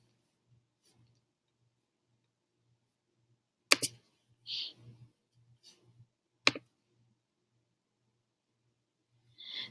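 Sharp mouse clicks on a computer while a Google Form is set up, a few isolated clicks spaced seconds apart with faint handling noise between them in a quiet room.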